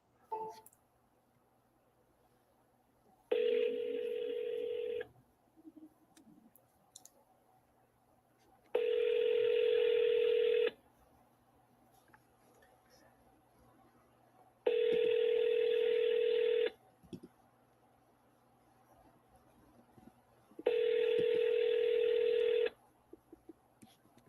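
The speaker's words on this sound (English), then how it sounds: "let me call this seller right now and see" A phone call to a seller: four evenly spaced ringback tones, each about two seconds long and separated by quiet gaps, with a faint voice at the start and a short beep near the end.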